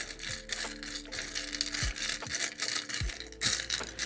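Tarot cards being shuffled by hand, giving a steady run of papery riffling and crinkling clicks with a few sharper knocks, close and fairly loud with no talking.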